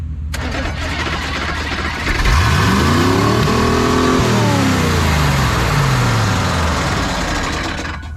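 An old truck engine cranks and catches, then revs hard at wide open throttle and settles back down. The engine is loud and close, with a rising and falling roar.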